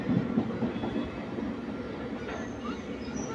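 Passenger train running on the line to Khekra railway station, a steady rumble and clatter of wheels on rails heard from aboard, with a few faint high squeals near the end.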